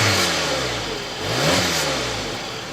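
Audi A3 turbocharged four-cylinder engine with dual exhaust, revving up once and settling back, heard close and alone with a steady mid-pitched drone.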